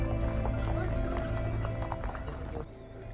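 Horse hooves clip-clop at a steady walking pace during a ride in Pahalgam, Kashmir, close and continuous over a dense background of voices and outdoor noise.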